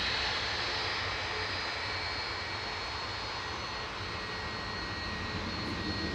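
A 27-year-old Boeing 757-200 takes off from Manchester for Malaga, heard as a faint, even engine roar with a high steady whine held throughout.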